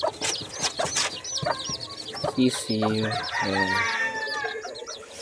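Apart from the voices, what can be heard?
chicks peeping and clucking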